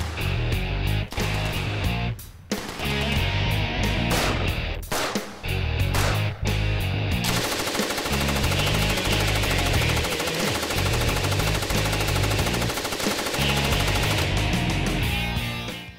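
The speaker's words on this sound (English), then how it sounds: "A machine gun is something that you think of when you think of a belt-fed firearm" Automatic machine gun fire rattles in rapid, sustained bursts, loud and close, with a few brief gaps early on before a long unbroken stretch of continuous firing.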